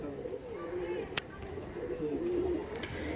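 Malbai pigeons in a loft coo softly and continuously at close range, and one sharp click breaks the murmuring partway through.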